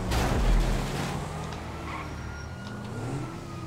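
A tank in GTA V Online brakes sharply and reverses, its heavy engine rumbling loudly and steadily close by, with a brief surge at the start and faint background music.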